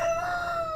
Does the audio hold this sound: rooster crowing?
yes